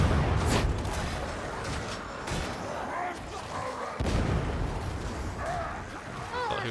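Grenade blast in a video game, a heavy booming burst near the start followed by rumbling explosive impacts and scattered game effects, with a voice talking over it.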